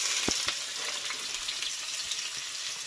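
Onions for chicken biryani hit hot oil in a pan and set off a bright, steady sizzle, with a few sharp clinks and scrapes near the start and a constant crackle throughout.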